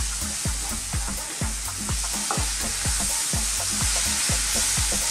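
Vegetables such as potato or celery sauteing in a pan over medium-high heat, a steady sizzle with rhythmic scraping stirs repeating about twice per second, close and without talk.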